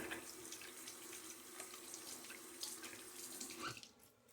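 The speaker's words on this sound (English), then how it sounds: "Rinse that off my hands." Tap water running steadily into a sink while shaving foam is rinsed off the hands, a soft continuous splash that stops abruptly near the end.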